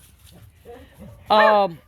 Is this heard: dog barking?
yes